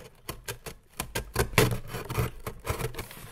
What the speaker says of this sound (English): I start with cutting away the two flaps on the sides